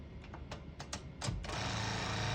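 A 1973 Smith-Corona Galaxie 12 portable typewriter rattles off a rapid, machine-gun-like string of clacks as its power space drives the carriage, ending in a steady mechanical whir.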